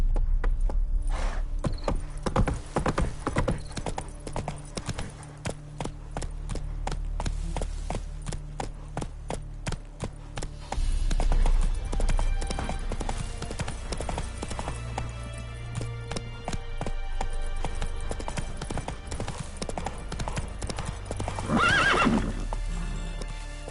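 Roach, the horse in The Witcher 3, gallops steadily with rapid rhythmic hoofbeats and a whinny, set against a low continuous game soundscape.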